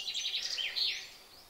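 Birds chirping in quick bright tweets, a rapid warbling run followed by a couple of further calls, fairly close and fading out, with no talk.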